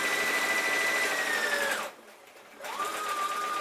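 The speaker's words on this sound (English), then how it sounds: "And just stitch right along until you reach." A sewing machine stitching denim jeans runs at steady high speed close up, stops briefly for under a second, then whirs on again.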